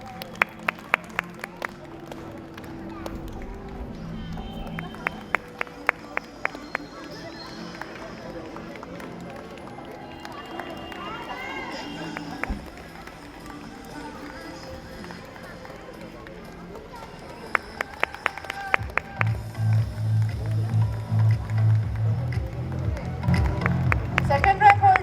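Parents clap for school rank holders at a Republic Day celebration at Vianney Jubilee School, Ballarpur: scattered bursts of applause rise over a noisy hall crowd, with talk throughout and a stronger round of clapping near the end.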